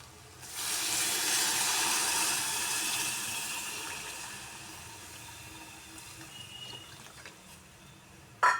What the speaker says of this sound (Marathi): त्याच्यावर पाणी ओतायचं